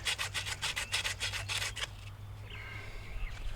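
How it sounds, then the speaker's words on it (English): Emery cloth rubs an AC copper line clean on a central air unit install, a rapid series of about nine close scratchy strokes that then stop, leaving faint background hum. "Standard sand cloth, emery cloth. You want to make sure those are good and clean"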